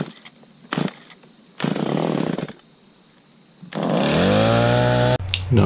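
A Stihl 017 chainsaw with a bad carburetor is hard to start: two rough pull-cord bursts with pauses, then the engine catches and revs up loudly, stutters briefly and keeps running.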